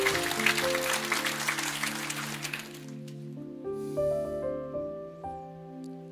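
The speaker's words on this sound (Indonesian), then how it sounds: "Boleh tepuk tangan" Applause from a church congregation during a sermon fills the first half, then fades into a sustained musical chord that continues to the end.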